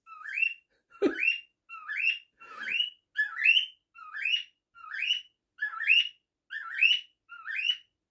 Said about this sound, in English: And I've got a bird singing.